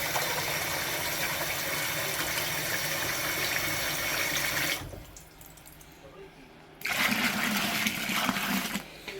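Tap water rushes into a fermenter for brewing Coopers Real Ale, a loud steady hiss that stops briefly and then resumes just as strongly.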